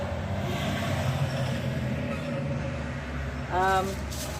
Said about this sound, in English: there's a lorry now